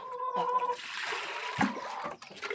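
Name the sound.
pouring water into the chickens' basin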